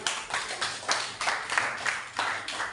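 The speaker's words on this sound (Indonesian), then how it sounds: "Tepuk tangan untuk kalian semua." Students in a classroom clap for three class representatives with a loose, rhythmic run of hand claps, several people in rough unison, each beat distinct and moderately close.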